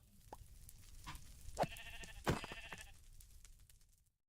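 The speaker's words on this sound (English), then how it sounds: "I hear another sheep." Sheep bleats from the video game Minecraft, a few short distinct calls at moderate distance, faint against quiet background.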